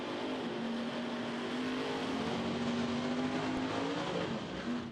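Top Sportsman drag car at Santa Pod, a 582 cubic inch Chevy Nova, roaring steadily at full throttle in a wheels-up launch, loud and sustained with a rising engine tone and no voices.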